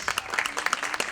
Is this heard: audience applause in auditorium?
yes